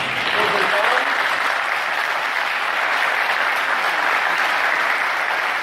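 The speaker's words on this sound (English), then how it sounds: "let's give them a warm round of applause" Warm audience applause follows a panel on Java, microservices and cloud-native technologies, a steady wash of clapping that stays full and even for several seconds.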